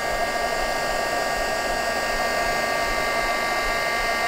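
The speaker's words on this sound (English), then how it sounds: "I can take my heat gun and I can just bring out." A heat gun blows a steady, loud whooshing roar over a freshly stamped background, continuous and unchanging throughout with no speech.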